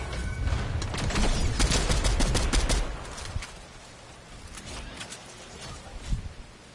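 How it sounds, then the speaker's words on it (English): Rapid bursts of gunfire from the Fortnite video game, dense and loud for the first three seconds, then sparser isolated shots trailing off under a steady background. "He's shooting."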